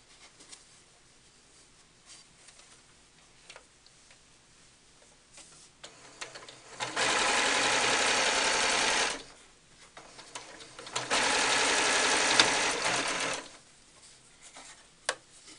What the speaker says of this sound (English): I've sewed all the way around from the bottom right corner of the body all the way to the top and down to the bottom left